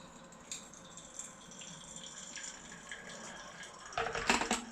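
Hot water at about 86 degrees from a kettle pours through a hand coffee grinder as a faint, thin trickle that swells into a louder splash at the end.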